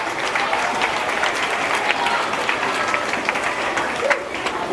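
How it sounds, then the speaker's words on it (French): Schoolchildren at an inter-school mental arithmetic contest applaud loudly together, a dense, sustained wash of many hands clapping at once, steady for the whole stretch with no pauses. "je voudrais que les élèves s'applaudissent très fort"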